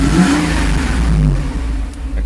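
A car engine with a rebuilt fuel distributor revs up under throttle: a loud, rising engine roar close to the microphone that eases back slightly after a second or two.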